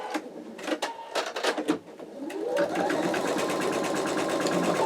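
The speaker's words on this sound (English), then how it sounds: "let's go ahead and add this back to the machine. Again, hold my thread and start stitching." Embroidery machine stitching an in-the-hoop wallet runs steadily: a rapid, even mechanical chatter starts up after a few scattered clicks and handling noises, then keeps going close and fairly loud.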